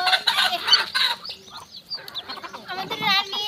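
Brahma hens and roosters give short clucks and squawks close by in quick, uneven bursts, with a voice briefly mixed in.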